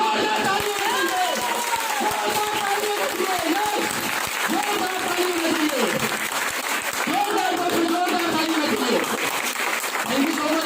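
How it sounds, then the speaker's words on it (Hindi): A large audience claps loudly at the close of a seminar session, sustained applause under an announcer's voice and music, with some cheering mixed in throughout. "एक बार आमिर जी के लिए जोरदार ताली बजाइए।"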